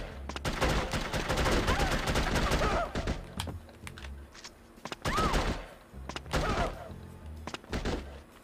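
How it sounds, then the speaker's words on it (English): Rapid SMG gunfire in the shooter game The Operative: No One Lives Forever, loud bursts of dense rattling shots in a long opening run, then shorter separated volleys with someone talking over the action. "Jumping up in the air while shooting an SMG"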